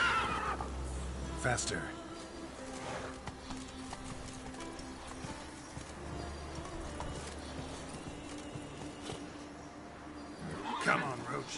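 Roach the horse in Witcher 3, with rhythmic galloping hoofbeats and a neigh near the end over game ambience, while someone speaks briefly.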